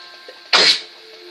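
One sharp, loud sneeze bursts out close by after a faint intake of breath, then fades quickly into quiet.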